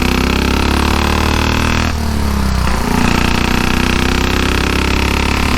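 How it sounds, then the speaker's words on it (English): A Velocette KTT motorcycle exhaust under open throttle, loud and steady, a continuous close engine roar with a brief dip in the middle before the note picks up again. "Listen to that exhaust. Like I say, that's me giving her a bit of an open throttle there."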